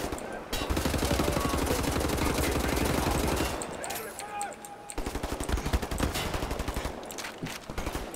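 Rapid machine-gun fire in the video game Wolfenstein: The New Order, with sustained automatic bursts, a short lull, then more shots, loud and close, with a voice heard in the middle.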